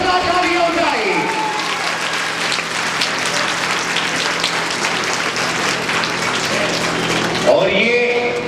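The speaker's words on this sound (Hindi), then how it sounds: "जोरदार तालियां हो जाए" Loud, steady applause from a school audience lasting most of the clip, rising after a speaker's voice and fading as talk resumes at the end.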